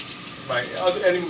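Water runs from a new kitchen faucet in a short, close hissing stream that swells partway through, with a voice talking over it.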